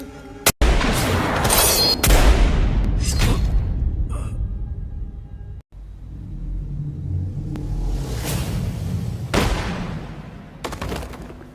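Two gunshots ring out in an anime fight scene as Jigen fires at Kawashima: sharp, loud cracks that stand apart, with rumbling booms and whooshing bursts between and after them.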